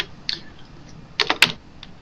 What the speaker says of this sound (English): you start typing in Creative